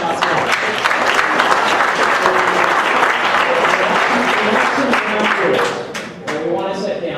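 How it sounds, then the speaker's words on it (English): A town hall audience applauds steadily, dense loud clapping from a large crowd that holds for several seconds, then thins and tapers off near the end. "So I give her a round of applause for that."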